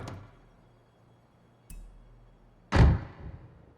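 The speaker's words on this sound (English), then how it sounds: "With modern or most cars in the game, the doors will sound like this." Modern car doors in the video game Forza Horizon 5: a soft click of the door opening, a short latch sound, then one loud solid slam as it shuts, each separated by quiet pauses.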